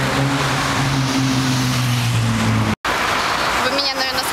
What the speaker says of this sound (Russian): Как видите, здесь очень много машин.